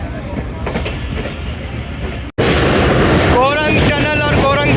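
Rehman Baba Express rolling slowly through Chaklala station at about 15 km/h, a steady close rumble and rattle of railcars with a brief dropout, then brighter wheel squeals and clatter, with talk over it.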